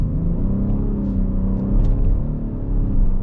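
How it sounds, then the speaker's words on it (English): A 2023 Cadillac XT6 with a V6 and 9-speed automatic accelerating, heard from the cabin as a steady low rumble and whir of engine and road noise with no talk. "We're going to have an opportunity here to see what the acceleration is like with this vehicle."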